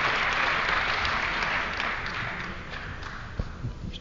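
Crowd applause in a university hall during a 1973 Los Angeles mayoral candidates' forum at UCLA, many hands clapping steadily at first, then thinning and tapering, with a few louder isolated claps near the end.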